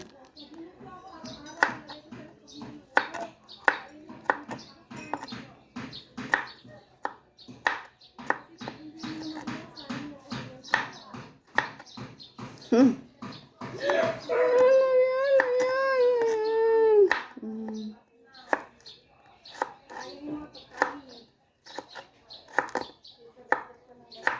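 Garlic is chopped with a knife on a board in a run of sharp, regular knocks, up close. A sustained, howl-like tone rises over the cutting partway through.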